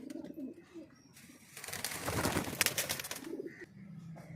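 Rare breeding pigeons in a loft coo softly in low, rolling phrases, joined partway through by a brief burst of louder rustling or fluttering at close range.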